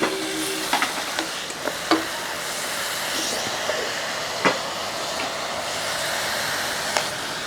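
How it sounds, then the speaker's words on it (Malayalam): Mutton added to well-sautéed onions in a pressure cooker, frying with a steady, moderate sizzle and occasional scraping and stirring clicks, no talk. "ഈ സമയത്ത് നമ്മൾ ഈ മട്ടൺ അങ്ങോട്ട് ഇറക്കി അങ്ങോട്ട് ഇടാം"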